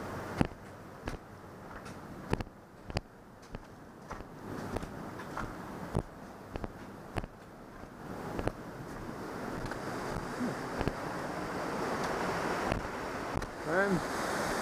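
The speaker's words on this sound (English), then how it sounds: "Let's finish crossing underneath delightful waterfall." A Swiss waterfall rushes steadily close by and grows louder as someone walks underneath it, with wind buffeting the microphone and occasional knocks and bumps.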